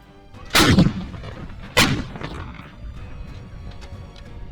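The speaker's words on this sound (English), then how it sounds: "M777 howitzers of the Ukrainian 81st Air Mobile Brigade pounding Russian equipment in the country's eastern region" Firing of M777 howitzers operated by a Ukrainian air mobile brigade against Russian equipment in eastern Ukraine: two sharp, loud blasts about a second apart, each trailing into a rolling rumble over a low background.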